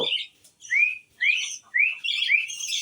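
Several short bird chirps and tweets, clear and fairly close, coming in quick bursts with brief pauses between them.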